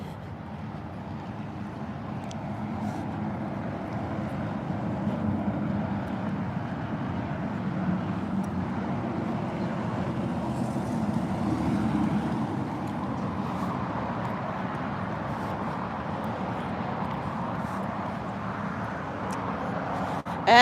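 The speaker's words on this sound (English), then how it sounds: "As usual, there's a lot of traffic here, so it's noisy." Continuous low roar of busy road traffic passing nearby, a dense steady wash of engines and tyres with no single vehicle standing out, heard alone without talk.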